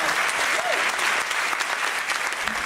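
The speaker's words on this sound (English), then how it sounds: "So let's give ourselves a huge round of applause." A conference audience at a breast cancer keynote breaks into sustained applause, a dense, steady wash of many hands clapping that fills the hall without pause, with faint voices mixed in.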